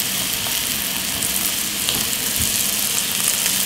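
Scallops sear in a hot pan with a steady, close sizzle and crackle, browning as an appetizer; the frying noise runs unbroken and fairly loud throughout with no talking.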